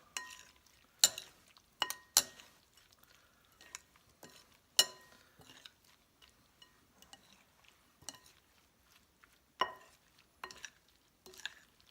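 A utensil tossing steamed lobster tails in a bowl, with scattered sharp clinks and scrapes and soft wet stirring between them, close and otherwise quiet.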